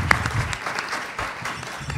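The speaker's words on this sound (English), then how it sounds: "So round of applause for our panelists." Brief audience applause for panelists at a town hall event, a scattered patter of clapping from a crowd, moderately loud and steady over two seconds.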